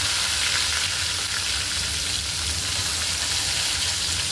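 Green chillies spit and crackle in hot oil for a shepu (dill) bhaji, a close, steady, dense frying hiss with no talking.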